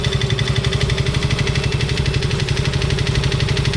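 A Yamaha Mio i125 scooter engine runs after a top overhaul, following an oil dry-out fault, with a close, steady idle of rapid rhythmic thumps and a faint metallic knock, heard alone without talking.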